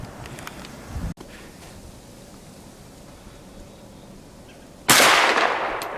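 A rifle round strikes a ceramic tile target: one sharp, loud crack near the end that decays into a lingering wash of noise, after a stretch of quieter background hiss and a brief earlier thump.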